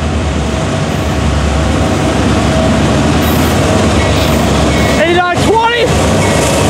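A freight train hauled by five or six GE locomotives with a Dash 9W in the lead rumbles past loudly and close, wheels grinding steadily, with a pair of sharp horn-like squeals near the end.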